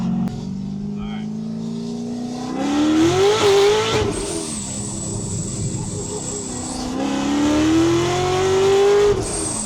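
A supercharged 750 whp Chevrolet Corvette C6 Z06 accelerates hard through its gears, its engine note climbing in loud surges while a high supercharger whine rises above it, heard from inside the car.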